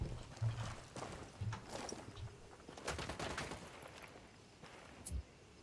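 Scattered gunfire crackles through a firefight in Ghost Recon Wildlands, with irregular shots and bursts of varied loudness over a noisy game background.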